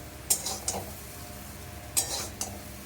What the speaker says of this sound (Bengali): খুন্তিয়ে করেই তুলছি।